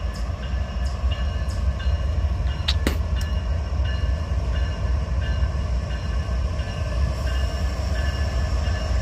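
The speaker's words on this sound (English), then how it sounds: "I don't hear any train brakes, he's just using dynamic now to slow itself down." A freight train passing through Abbeville and slowing on dynamic braking without air brakes: a steady, loud rumble and drone of rolling cars with faint metallic clanks, continuous and close.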